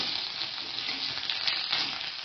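Crackling, hissing sizzle of mustard seeds and curry leaves frying in hot oil, steady and close, with a few brief louder pops.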